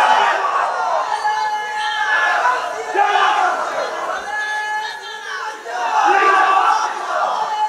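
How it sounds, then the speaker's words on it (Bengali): A large crowd at a religious sermon gathering loudly chants takbir in unison, the roaring voices rising and falling in several sustained waves throughout. "একটা জোরে দেও তো তাকবীর"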